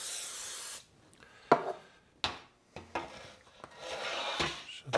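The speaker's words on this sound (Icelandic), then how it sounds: "Spreyja hana aðeins." A spray bottle hisses as it mists a baking tray, followed by several knocks and clatters of the tray. A second, longer burst of spraying comes near the end.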